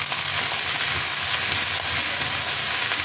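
Okra sautéing in a pan with chili powder, salt and asafoetida gives a steady, dense sizzle close up, with no voices over it.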